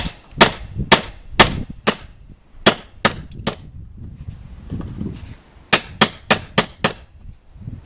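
A hammer strikes roof slate to punch a hole through it, giving sharp, ringing clangs in uneven clusters of blows separated by short pauses. The strikes are close and loud, with no talking.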